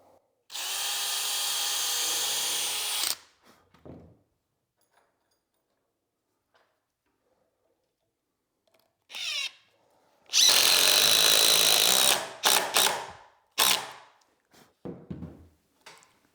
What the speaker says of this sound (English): Now I can pre-drill, and I'm gonna aim for the seat board.